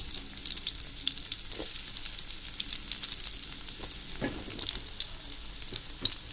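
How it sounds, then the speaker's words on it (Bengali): Sliced onions frying in hot oil with tilapia fish, a dense crackling sizzle with occasional stirring scrapes, steady and close. "পেঁয়াজগুলোকে একটু হালকা বাদামি করে ভেজে নিতে হবে।"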